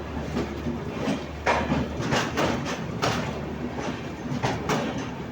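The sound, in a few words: Dibrugarh Rajdhani train entering Guwahati platform 1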